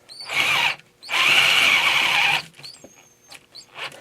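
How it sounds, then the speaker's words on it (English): A Harbor Freight Drill Master cordless drill on a weak battery whines in two bursts, a short one and then a longer, steadier run, followed by quiet clicks and shuffling. "So we'll drill it out first."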